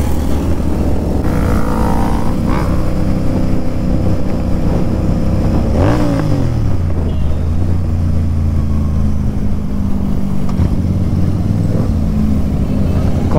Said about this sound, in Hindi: और अभी तक वही इंटरसेप्टर ही चला रहा हूँ कंटिन्यूसली